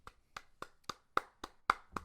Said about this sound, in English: You deserve a round of applause, good sir.